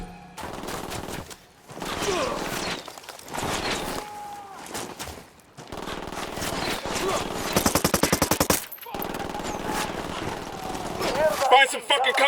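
Rapid automatic gunfire from a firefight in the tactical shooter Ghost Recon Wildlands, loud bursts and sustained volleys through most of the stretch, with voices talking over the shooting.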